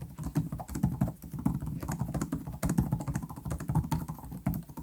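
Typing on the keyboard of a Lenovo Legion 5a Gen 11 gaming laptop, with tactile keys giving a quick, steady stream of close, soft clicks and thumps.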